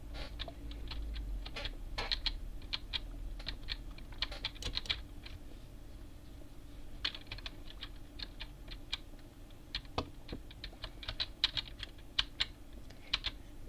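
Rapid, quiet clicking of keys on a computer keyboard fills the stretch in uneven bursts and pauses, close and soft with no talking.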